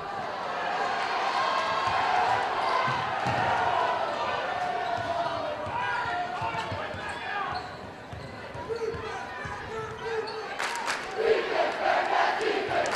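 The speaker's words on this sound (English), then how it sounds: "There you hear the crowd getting into maybe Bearcat defense" Crowd noise in a gym during a girls' Class 4 sectional basketball game between Dexter and North County, a steady roar of voices rising toward the end, with a commentator talking over it and sneakers squeaking on the court.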